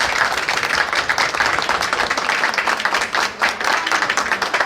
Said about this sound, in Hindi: ये तालियां तो बनती ही है